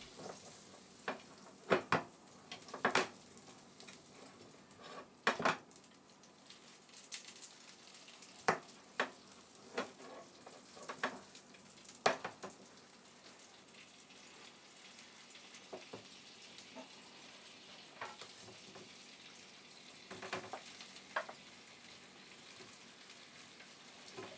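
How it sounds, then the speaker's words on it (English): Potatoes fry in melted butter in a pan with a quiet, steady sizzle, broken by occasional light clatters and scrapes from stirring. "Put more butter in the pan, and when it melts, dump in the taters."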